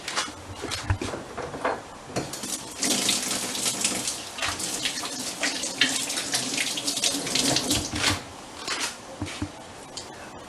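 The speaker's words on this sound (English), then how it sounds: "the first thing on Neisha Cuisine that we do is always wash our hands" Hands are washed under a running kitchen tap, water splashing steadily into a sink with some scrubbing and clatter, moderately loud and continuous without talk.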